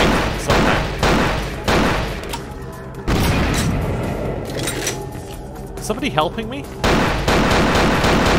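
Explosions and bursts of gunfire in the video game Vampire: The Masquerade – Bloodlines, with several loud booming blasts and rapid shots in clusters, and a player talking briefly in between.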